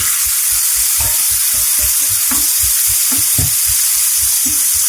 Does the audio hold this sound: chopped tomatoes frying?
yes